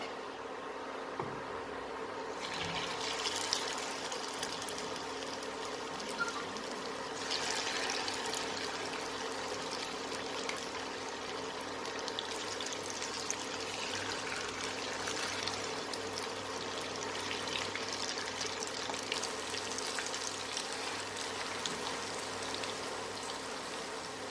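Chicken pieces for chilli chicken fry in hot oil in a pan, giving a steady, even sizzle with a soft hiss throughout, moderately close and continuous, with no one speaking.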